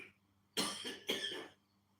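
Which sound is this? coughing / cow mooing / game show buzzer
coughing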